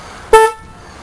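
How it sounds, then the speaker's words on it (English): A Chevrolet Blazer car horn, fitted to a bike, gives one loud, close, short honk that cuts off quickly into quiet. "Car horn. It's off the Blazer."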